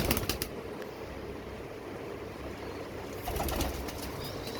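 A breeder pigeon at a home loft flies off, with a quick flurry of flapping wings at the start and another brief burst later, over a steady hiss of background noise.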